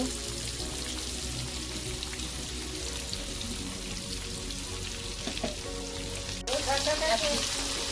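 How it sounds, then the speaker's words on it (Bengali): Mixed wetland fish frying lightly in oil over a clay stove, giving a continuous close sizzle with a sharp clatter and brief louder spatter near the end, no speech. "লাহে লাহে হালকা করে ভেজে নেব"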